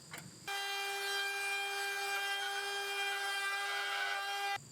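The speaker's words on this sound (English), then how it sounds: "This router and flush cut bit combo is fantastic for this." A router fitted with a flush cut bit trims wall sheathing in one steady, loud whine, a high tonal hum with harmonics that starts abruptly and holds evenly for about four seconds before cutting off.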